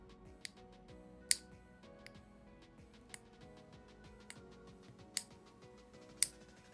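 Loose Gel X nail extension being cut off with small clippers, a handful of sharp, faint clicks spaced irregularly over quiet background.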